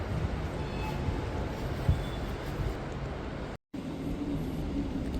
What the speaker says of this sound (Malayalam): ഇതാ നമ്മുടെ ട്രെയിൻ